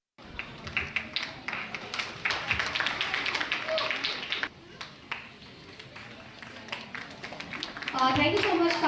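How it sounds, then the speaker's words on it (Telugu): An audience at a charity event for widows' children's education claps in scattered, uneven bursts, moderately loud and close, with voices talking over the clapping throughout. "చప్పట్లు కొట్టాల్సిన రిక్వెస్ట్ చేస్తున్నాను"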